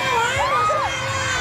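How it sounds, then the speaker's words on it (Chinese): Fans scream at the helicopter arrival of the pop group 5566 on a university sports field in Taipei, with shrill overlapping shrieks from a crowd packed close together. "歌迷情绪激动，尖叫声不断"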